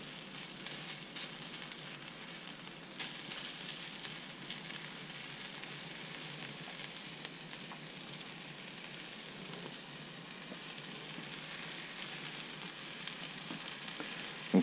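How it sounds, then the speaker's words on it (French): Butter melting and sizzling in a frying pan while cooking a côte de boeuf, a steady, even crackle that holds at moderate loudness throughout with no talking. "Donc le beurre, il faut bien qu'il fonde partout. Histoire que tout ça ne colle pas à la poêle."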